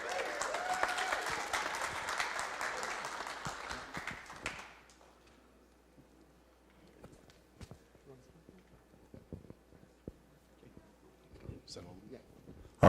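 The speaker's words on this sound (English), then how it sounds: "let's give them another round of applause" Applause from the audience at a city council meeting rises in a dense, steady wash for about four seconds, then breaks off abruptly, leaving scattered claps and sporadic knocks as people begin talking in the room.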